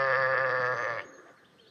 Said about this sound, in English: Oh, he was a funny sheep, him.